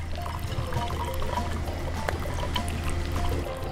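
Homemade syrup, cooled after boiling, is poured slowly into bottles, making a continuous close liquid pouring and trickling sound over a low steady hum.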